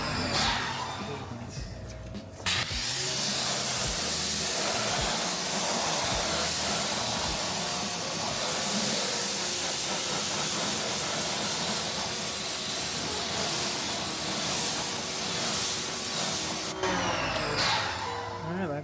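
A long, steady hiss of cleaning chemical sprayed onto a Nissan Stagea runs for about fourteen seconds, starting and stopping abruptly, with faint clattering before and after.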